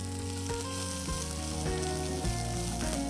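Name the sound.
chopped onions sizzling as they fry in a pan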